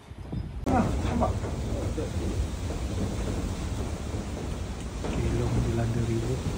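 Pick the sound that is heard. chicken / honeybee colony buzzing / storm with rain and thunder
storm with rain and thunder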